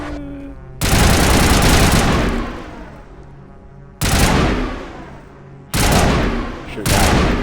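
Gunfire in the game Mass Effect Legendary Edition: loud, close bursts of heavy weapon fire, each roaring for a second or more and fading, repeating four times with brief gaps between.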